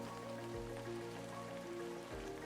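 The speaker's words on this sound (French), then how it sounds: "La pluie est tombée." Steady light rain patters in an unbroken wash, soft and fairly quiet, with no voices over it.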